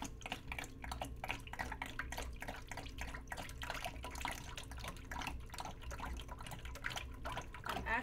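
Oil is poured for handmade neem seed soap, a faint, steady trickle with rapid dripping and patters.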